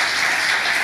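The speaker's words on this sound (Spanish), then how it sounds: "Den un aplauso fuerte al Señor." A church congregation bursts into applause, a dense, even roar of many hands clapping close and loud, with no voices standing out over the brief burst.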